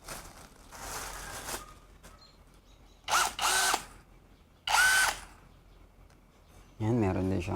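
A Lotus CXHD20V-80BL brushless cordless drill is triggered in several short whirring bursts separated by quiet gaps, close and fairly loud, with a final burst that ramps through changing speeds.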